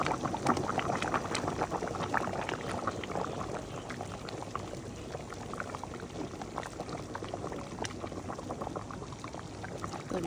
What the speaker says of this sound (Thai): ต้มกระดูกหมูเปื่อย